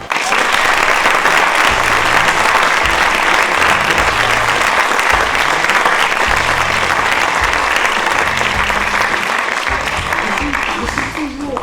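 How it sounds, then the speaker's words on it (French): A theatre audience in La Ciotat claps loudly and continuously for a performer, a dense sustained roar of applause with crowd noise and a voice speaking over it. "Alors, on applaudit bien fort,"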